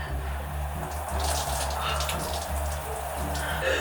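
Cold shower water running steadily while mud is rinsed off, a continuous close hiss of spray with soft splashing, loud and unbroken.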